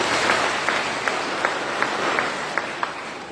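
An audience gives a round of applause, a dense, steady wash of clapping with a few sharper individual claps standing out, close and fairly loud.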